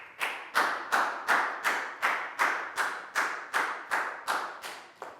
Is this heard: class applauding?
yes